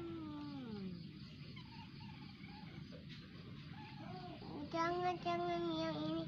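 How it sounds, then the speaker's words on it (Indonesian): A cat meowing and yowling in drawn-out, wavering cries at a household, fairly faint against a steady background hiss, with a louder call near the end. "Ternyata dia tuh lagi mainan sama kucing."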